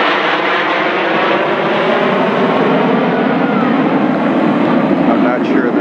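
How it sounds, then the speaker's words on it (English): Two aircraft make a high-speed pass at a beach air show, a loud, steady roaring engine rush sustained for several seconds, with a voice talking faintly underneath. "we got 2 aircraft high-speed pass"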